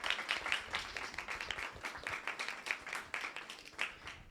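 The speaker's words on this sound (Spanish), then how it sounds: "Otro aplauso para él." Audience applause after a speaker is introduced at a political science orientation fair, a steady wash of many hands clapping at moderate volume with no voices over it.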